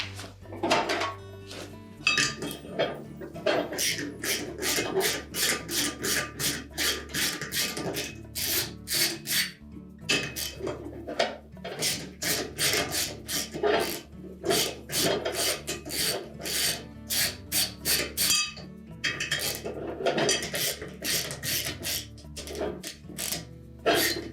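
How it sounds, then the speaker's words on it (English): Bolts being removed from the damper base of a Whirlpool washer, with rapid rasping ratchet-like bursts and scraping metal rubs, close up and alone, pausing between runs. "we'll take out the remaining 3 1/2-inch bolts to secure the damper base to that bearing"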